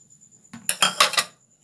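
Spoon clinking against a bowl while spices such as coriander and turmeric powder are mixed, a brief cluster of three or four close metallic clinks in an otherwise quiet kitchen.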